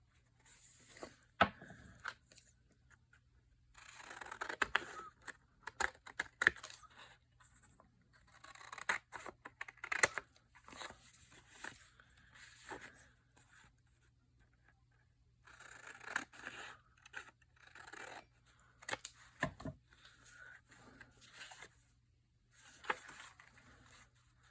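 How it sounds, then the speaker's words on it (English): Scissors snip a paper frame in faint, intermittent bursts of short cutting sounds with quiet gaps between them, close by in a quiet room. "I'm going to cut this one"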